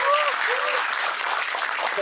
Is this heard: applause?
yes